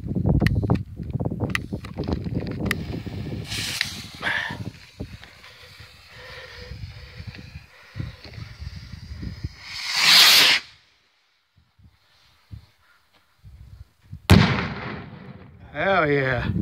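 Silver Dragon firework salute balls launching and bursting outdoors: a series of sharp thumps and crackling blasts, with one loud hissing burst near the middle and another near the end, while people talk between the shots.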